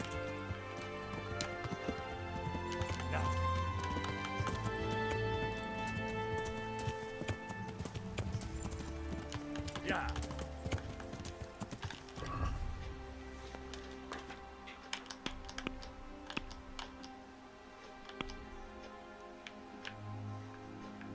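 Rhythmic clip-clop of horse hooves in the video game Kingdom Come: Deliverance, steady and fairly close, over a background of music and ambient game sounds.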